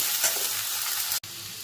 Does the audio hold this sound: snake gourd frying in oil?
yes